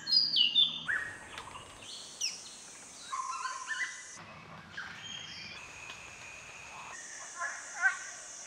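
Birds calling in an Assam rainforest, several varied chirps, whistles and trilling notes from different directions, some close and some distant, with quiet pauses between.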